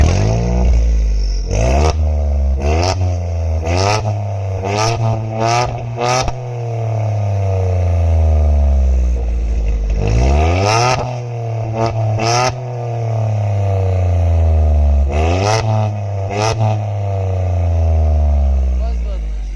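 A modified World War II-era turbocharged car engine revs hard several times, each blip rising sharply and dropping back in a loud, close, rough roar between idle stretches.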